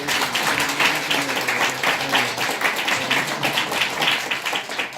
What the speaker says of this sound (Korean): 안희준 교수님께 박수 한번 드려주세요